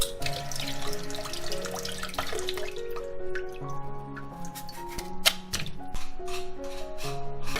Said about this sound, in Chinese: 我们刨好之后呢，用水冲一下